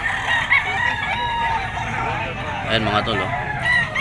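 Roosters of game-fowl bloodlines crow repeatedly at a busy bird farm in Bocaue, Bulacan, with overlapping calls rising above the steady murmur of the crowd. Someone speaks in the foreground.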